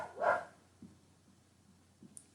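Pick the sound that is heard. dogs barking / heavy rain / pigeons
dogs barking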